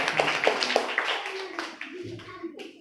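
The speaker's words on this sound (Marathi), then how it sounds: "पवन साठी टाळ्या वाजवा।" Children in a classroom clap for a classmate, a short burst of several quick claps close by, with talking over it and after it fading out.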